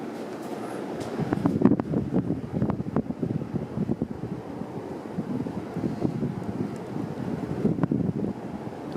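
A 1996 Hunter Original 52-inch ceiling fan with steep 15-degree blade pitch spins on high speed, giving a steady airy whoosh with soft rhythmic pulses, moderately quiet and continuous throughout.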